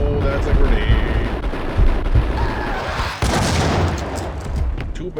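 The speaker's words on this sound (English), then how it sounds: "Oh, that's a grenade." A grenade blast in the shooter Max Payne, heavy booming rumbles amid ongoing gunfire and chaotic combat noise, loud and sustained over several seconds.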